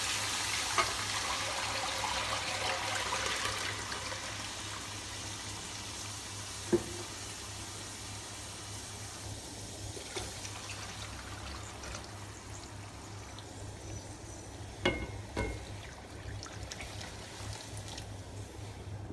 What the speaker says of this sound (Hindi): इसके अंदर हम छान के डाल देंगे।